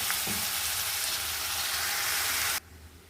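Soaked flattened rice frying in a pan, giving a loud, close, steady sizzling hiss that cuts off abruptly near the end, leaving quieter background.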